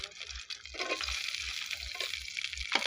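A steady hiss of chopped onion frying in hot soybean oil, with soft stirring scrapes over a faint low thumping pulse.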